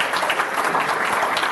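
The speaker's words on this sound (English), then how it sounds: "So if we could give that applause." Audience applause at a business diversity outreach event, a brief, dense burst of many hands clapping together at a steady level throughout.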